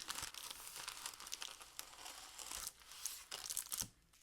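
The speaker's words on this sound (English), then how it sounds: "Packing paper from a sewing pattern." Packing paper from a sewing pattern crinkles and rustles close up as it is handled during an unboxing, a busy run of crisp crackles and small tearing sounds that stops abruptly near the end.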